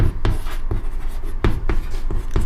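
Chalk or marker scratches on a board during a maths lesson on arithmetic progression, short rhythmic strokes and taps close by with no talk.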